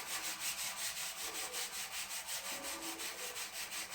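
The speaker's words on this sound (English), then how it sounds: "I'm going to take this 320 grit sandpaper and just clean up this edge right here." Steady back-and-forth strokes of 320 grit sandpaper cleaning up an edge during a subwoofer refoam of a Hsu HRSW10, with a motorized rotary table running alongside, the rubbing rhythmic, close and even throughout.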